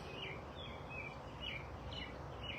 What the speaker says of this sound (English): I know all the birds are singing.